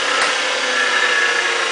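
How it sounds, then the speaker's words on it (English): An electric conversion motor runs smoothly through an adapter coupler supported by two bearings, giving a steady, even whir with a faint high bearing whine, close and continuous with no talk. "What little noise you're hearing is actually the bearings in the adapter."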